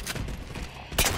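A Halo 4 scattershot fires in a multiplayer match, short blasts at close range with a loud burst at the end of a brief, busy stretch.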